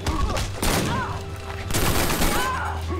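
Character firing upward in Injustice: Gods Among Us, a dense burst of rapid gunfire-like blasts in two loud surges with whooshing effects, a voice talking over it.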